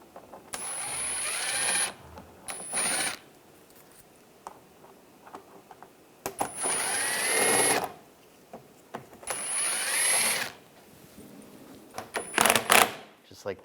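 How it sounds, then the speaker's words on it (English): A socket ratchet works loose 8mm screws holding the coolant reservoir on a 2013-2016 Dodge Dart 2.4L, giving several bursts of close, rapid clicking separated by pauses. "this is a 8mm socket I'm going to use to take this one out"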